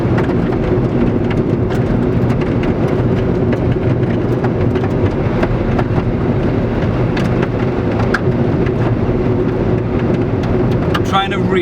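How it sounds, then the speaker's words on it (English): Grit and bits of desert surface spray continuously against the underside of a car speeding down the Hakskeen Pan land speed record track, a dense hissing patter like heavy rain over a loud road roar. "so that noise you can hear are bits of desert being kicked up underneath the car."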